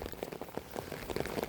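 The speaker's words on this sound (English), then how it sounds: "I know it's raining and I know it's bad" Rain falls during a walk in the woods, a soft patter of drops hitting surfaces close by, quiet and irregular, with no talking.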